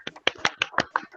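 Children in a primary school class clap their hands, a quick run of six or seven sharp, close claps in an uneven rhythm, fairly faint and with no talk over them.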